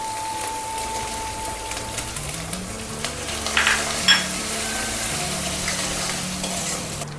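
Ground spices fry in a pan with onion, ginger and garlic for Bengali-style chicken kosha, giving a steady, close sizzle broken by the scrape of stirring.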